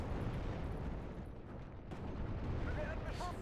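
Artillery fire in the WWII strategy game Steel Division: Normandy 44, heard as a continuous low rumble of distant booms and blasts running the whole time, with a faint voice partly under it.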